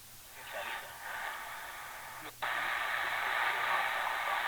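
WWV time station on 5 MHz shortwave, received on an older Sony SW77 or Tecsun PL-680 receiver: a steady hiss of static with faint tones underneath, which jumps louder about halfway through as reception shifts.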